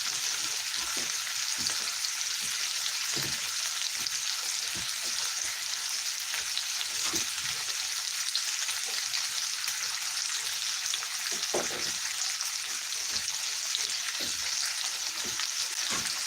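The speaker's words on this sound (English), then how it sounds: "I'm going to show you how we made scrambled eggs" Breakfast scrambled eggs cook in a frying pan, a soft, even sizzle running throughout with scattered light scraping and tapping of a utensil, and no voices.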